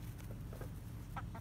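Chickens and chicks cluck in short, scattered bursts while being fed mealworms outdoors in winter, fairly faint over a steady low background rumble.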